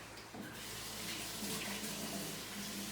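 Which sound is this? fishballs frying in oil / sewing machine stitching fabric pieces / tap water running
tap water running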